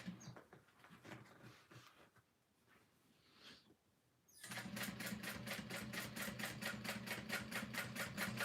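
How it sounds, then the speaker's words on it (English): A sewing machine top-stitches over a handbag's side seam at a long stitch length, starting partway through after quieter handling noises and then running in a steady, close, rapid rhythmic chatter to the end. "Switch my stitch length to a 5 to go over that side seam."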